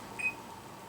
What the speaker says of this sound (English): Put the timer back for 8 minutes.